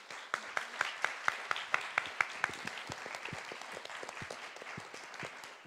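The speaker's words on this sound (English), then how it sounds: "Let's have an applause." An audience applauds together, a steady wash of clapping with a few sharp, distinct claps standing out near the start before settling into an even patter.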